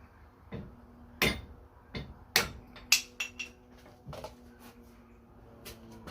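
Timber being split into chunks outdoors at a camp build: a handful of sharp, sparse striking cracks and knocks, several loud and close, spread over a few seconds with quiet gaps between.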